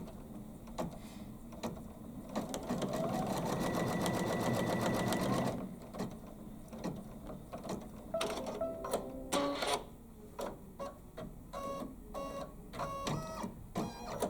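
An embroidery machine stitches a small pocket placement line, humming in a fast steady whir for a few seconds, then switching to shorter stop-start bursts of stitching and clicking mechanical movements.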